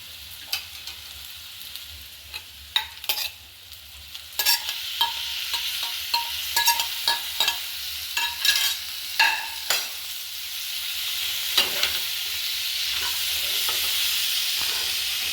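Chopped tomato is stirred into fish roast gravy frying in a pan, with a steady sizzle beneath repeated scraping strokes of the spoon, close and without talk.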